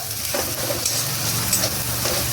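Spices with turmeric sizzling in a hot pan while being stirred, a steady close frying hiss with light scraping throughout.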